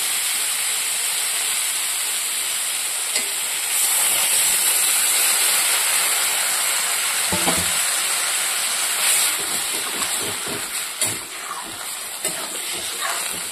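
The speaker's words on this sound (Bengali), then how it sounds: "তো সবজিটা কষানো হয়ে গেছে। এবার আমি পরিমাণ মতো জল দিয়ে দেবো।" Water poured onto sautéed vegetables in a pan sets off a loud steady hissing sizzle, with a few brief clatters and bubbling bursts toward the end, close by and without speech.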